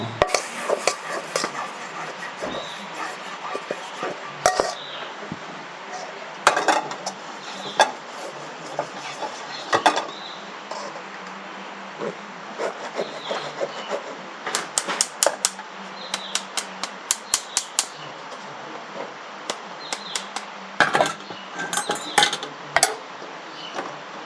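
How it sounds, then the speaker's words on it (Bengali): Gram flour (besan) stirred constantly as it fries in a pan for laddu: irregular sharp clacks and scrapes of a utensil against the pan, close and dry, with quiet gaps between bursts. "একদম বেসনটা ভাজতে থাকুন চারদিকে নেড়ে নেড়ে কনস্ট্যান্ট নেড়ে নেড়ে আপনি ভাজতে থাকুন"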